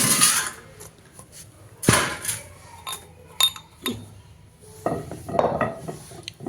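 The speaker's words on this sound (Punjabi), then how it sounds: "ਹੁਣ ਆਪਾਂ ਇਹਨੂੰ ਕੱਢਦੇ ਹਾਂ ਥਾਲ ਦੇ ਵਿੱਚ" Fine powder is emptied from a utensil into a metal platter, producing clattering metallic knocks and scraping clinks in uneven bursts, close and fairly loud, with quiet gaps between.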